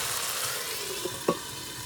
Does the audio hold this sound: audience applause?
no